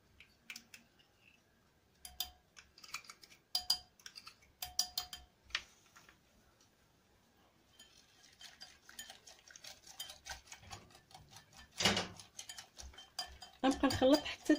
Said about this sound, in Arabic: غنبقى نخلط حتى تدوب ليا داك النسكافي